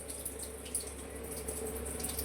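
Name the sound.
draining soaking water off rice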